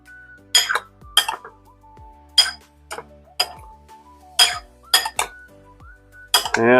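Tofu being mixed with hot sesame oil in a bowl, heard as a series of sharp close clinks and scrapes of a utensil against the dish at irregular intervals.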